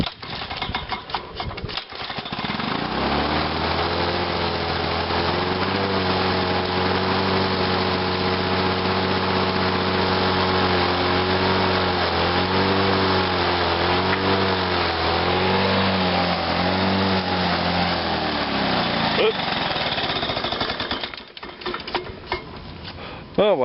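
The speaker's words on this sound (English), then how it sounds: "I just love these two-stroke lawn boys." A two-stroke Lawn Boy lawn mower engine starts up cold and runs steadily for about fifteen seconds, a close, buzzy drone with slight wavering before it cuts off.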